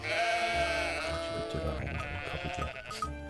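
Sheep bleat in a dense, overlapping chorus, several animals calling close and loud over a continuous flock murmur.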